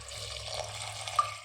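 Water pours into a pressure cooker holding soaked chickpeas, chopped shallots and green chilies, a faint, continuous splashing trickle over a low background hum with a small splash near the end.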